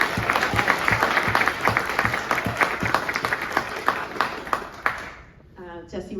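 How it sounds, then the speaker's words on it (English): Audience applause fills a film festival Q&A hall, dense, steady clapping with sharp individual claps standing out for about five seconds before fading, then a voice begins speaking. "let's maybe give another round of applause to Jesse Rudoy"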